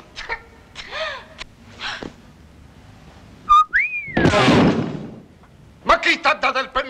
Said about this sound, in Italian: Ma chi ti ha dato il permesso da fischiare?